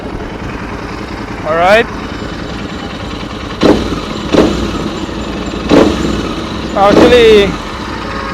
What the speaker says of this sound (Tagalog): it's mostly the exhaust pipe, the pipe that we're hearing